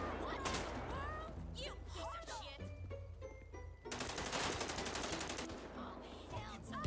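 Bursts of automatic gunfire from the video game GTA 5 crackle in rapid volleys, one sustained stretch especially loud, mixed with game effects while a player talks over them.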